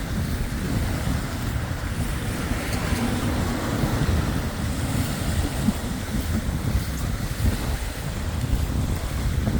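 Surf breaking in the bay at Oban, Scotland, a continuous wash of waves heard outdoors and heavily buffeted by strong wind roaring across the microphone throughout.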